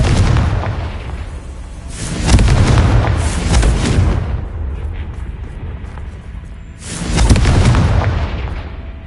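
Deep booming fire-spell blasts from the Confringo spell in the Hogwarts Legacy video game, loud and close, with two big bursts rising and fading over rumbling tails.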